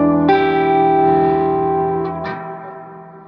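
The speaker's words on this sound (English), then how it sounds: "this is the least amount of overwhelming reverb because it's tube driven" A sustained distorted guitar chord rings through the tube-driven spring reverb of an Orange Rockerverb 50 MkII amp, decaying slowly with a washy echoing tail and a brief extra pluck near the end.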